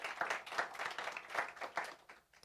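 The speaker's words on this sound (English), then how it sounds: "Please, a round of applause." A round of applause at a press conference for the Absa Run Your City race series, steady clapping from a modest audience, fairly faint and even throughout.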